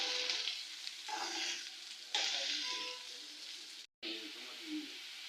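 Chillies and onions fry and sizzle in a hot pan while being mixed, a steady crackling hiss broken by a few stirring scrapes and a brief dropout near the end.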